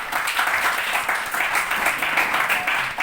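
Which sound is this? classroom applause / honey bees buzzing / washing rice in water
classroom applause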